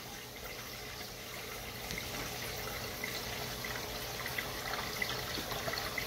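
Water runs steadily while an aquarium is refilled during a water change in a home fish room, a constant broadband rushing and trickling that stays even and fairly close throughout, with no talk.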